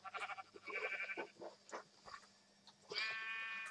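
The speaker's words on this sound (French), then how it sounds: "Allez, décédez petit mouton." Sheep in a video game bleat several times in quick, wavering calls, fairly faint, with a pause before a final longer bleat.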